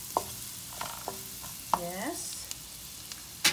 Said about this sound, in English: stir it until the onion and the garlic mix brown